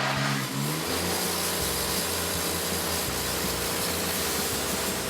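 A sawmill blade cuts pine fence boards with a loud, close, continuous grinding roar over a pulsing engine drone.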